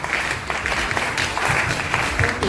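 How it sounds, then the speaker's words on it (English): A round of applause from an audience at a Ghanaian secondary school tourism club gathering, dense continuous clapping that is loud and close throughout. "So better round of applause."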